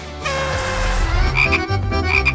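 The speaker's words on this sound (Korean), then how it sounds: "상자 안에 개구리가 있어" A frog sitting in a box croaks loudly and close up, giving a quick series of throaty croaks with a few rasping pulses.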